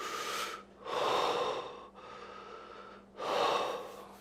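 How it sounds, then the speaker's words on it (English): Slow, deep breaths: two long, loud airy inhalations, each followed by a softer, drawn-out exhale, close to the microphone with no talking. "Start with slow, deep breathing."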